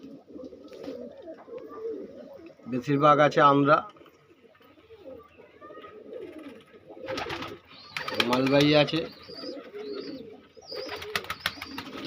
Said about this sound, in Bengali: টোটাল 100 পিস পায়রা আছে।